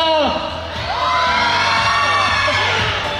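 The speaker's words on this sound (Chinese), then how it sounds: "刚才喊的都非常的大声。" A red carpet crowd screams and cheers at a film awards night, a loud, continuous wall of shrill shouts and whoops that swells and holds throughout, close and dense.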